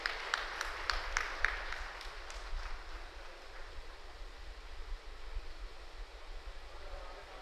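An audience applauds award-winning students at the inauguration of a Shia law college in Lucknow. Crisp clapping is loudest at the start, then thins and fades into a soft hall murmur.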